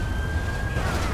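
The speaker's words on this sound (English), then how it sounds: "I hear sirens, but I don't see." A police siren from the GTA V video game, set during a car chase, rings as one steady high tone with a low engine rumble underneath.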